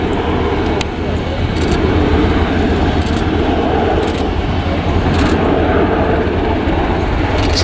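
A large military transport aircraft flies past at the RIAT air show with its undercarriage extended, a loud, steady broadband engine roar filling the scene with no pauses.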